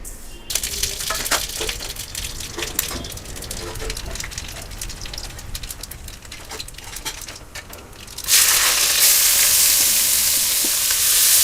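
Steady sizzling of tempering spices in hot oil for a plantain dish, loud and close, with scattered clinks and stirring, swelling into a stronger hiss near the end.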